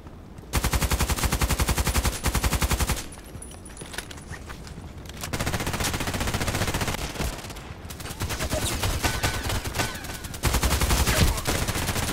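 Pistols fire in a sniper shooting game. Rapid, steady bursts of loud gunshots rattle in quick succession, broken by short quieter pauses before the shooting starts again.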